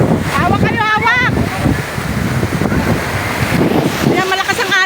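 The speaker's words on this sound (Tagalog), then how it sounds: "malakas ang alon" Strong ocean waves churn and slosh around a small outrigger boat off Oslob, a continuous rough wash with wind buffeting the microphone, while voices shout and chatter over it throughout.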